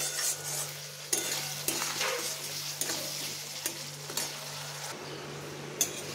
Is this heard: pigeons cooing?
no